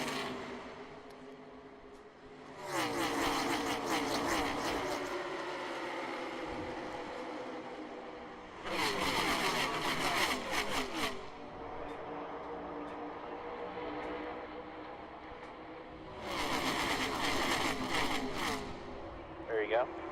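NASCAR race cars roar past in three loud waves at Daytona, each pack swelling and fading, with a commentator talking throughout.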